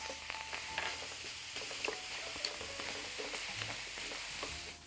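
Mushrooms, onions and garlic frying in a pan, a soft, steady sizzle with light crackles and occasional stirring clicks, fairly quiet throughout.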